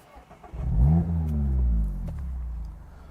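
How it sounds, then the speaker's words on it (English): A Mazda ND3 Miata drives past with its aftermarket exhaust rising to a deep, throaty rev, holding a loud low drone for about a second before easing off, close to the microphone with no speech. "So let me let y'all hear the exhaust again."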